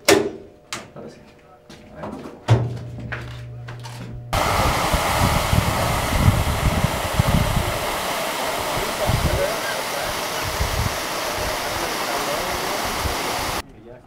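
Water gushing from a newly opened well at its inauguration in Los Depósitos, starting suddenly after a few knocks and a brief hum, then roaring loudly and steadily for about nine seconds before cutting off.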